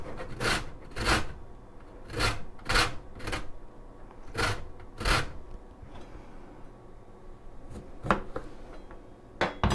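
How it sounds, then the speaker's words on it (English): A large lemon being zested on a grater in a home kitchen: a series of short, sharp rasping strokes in uneven bursts, close and clear, with brief pauses between groups of scrapes. "so we are going to go ahead and zest and juice a lemon"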